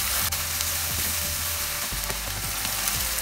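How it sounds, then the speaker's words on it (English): Onion frying in a pan sizzles loudly and steadily up close while a spoon scrapes and stirs through it in short, repeated strokes, with no talking. "Keep stirring until the onion is not getting golden"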